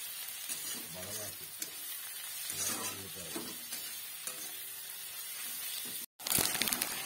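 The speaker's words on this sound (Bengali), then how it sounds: "একটু নুন দিয়ে পেঁয়াজটাকে ভাজা হলো" Onions fry with salt in a pan for chicken biryani, giving a continuous sizzle with stirring scrapes and a voice speaking over it, then a brief dropout before a louder burst of frying.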